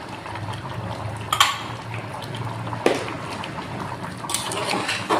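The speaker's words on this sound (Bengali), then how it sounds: "কাঁচা সরিষার তেল দিয়ে দিব।" Raw mustard oil poured into a pot while cooking, a soft continuous liquid pour with a few clinks of cookware, close and moderately loud.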